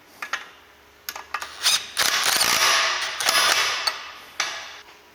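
A hand ratchet with a 3/4 inch socket clicks in short bursts, then runs in longer steady ratcheting strokes while a bolt is tightened on an excavator thumb install, close and clear with no talk.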